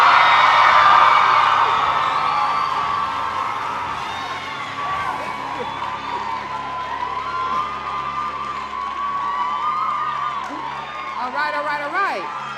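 Crowd at a live Urban League comedy show cheers, whoops and shouts loudly, swelling at first then settling into sustained mixed crowd noise with scattered high shouts and some clapping.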